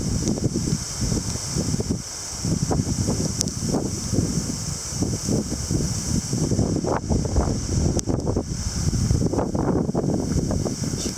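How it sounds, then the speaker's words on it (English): Gusty wind roars continuously outdoors during a wintry storm with snow flurries and small hail, rising and falling in strong buffeting surges against the microphone throughout. "Gusty winds in a row."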